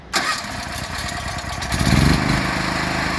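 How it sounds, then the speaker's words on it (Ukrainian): A Genergy Limited 7000 petrol generator cranks on its electric starter and catches at once, settling into a steady, fairly loud mid-pitched engine drone heard up close with no talking. "Відкрили поступлення палива і за допомогою кнопочки з електростартеру ми заводимо."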